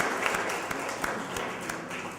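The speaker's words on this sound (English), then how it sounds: "So we think it's good to give Bank of Industry a round of applause." An audience at the launch of a youth gemstone production training programme applauds for a bank, a soft, even spread of clapping with occasional sharper claps rising above it.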